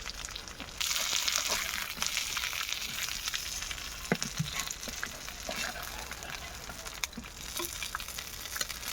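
Fish fries in a pan with a loud, continuous crackling sizzle, broken by occasional pops and scraping stirs, close and steady with no voices.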